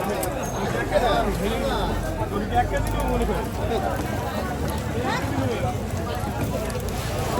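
A busy fish market where people buy and sell, with a steady babble of crowd chatter, scattered voices near and far, and background clatter throughout.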